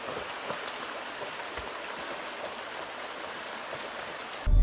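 Broad, steady rushing of a full river in the Peak District near Thor's Cave, constant and fairly close outdoors, ending with a sudden low rumble of wind or handling.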